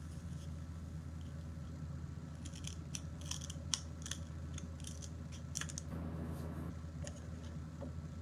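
Scissors snip paper pieces for a St. Patrick's Day craft, a run of quick close crisp cuts over a low steady background hum.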